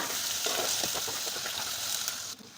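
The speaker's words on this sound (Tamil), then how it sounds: "வெங்காயத்தை சேர்த்துட்டு கிண்டி கொடுத்து ஒரு பத்து நிமிஷத்துக்கு வெங்காயத்தை நல்லா வதக்கிக்கோங்க" Sliced onions sauté in a pan for an eggplant curry, a continuous sizzle broken by a run of quick spatula scrapes that fades near the end; no voices are heard.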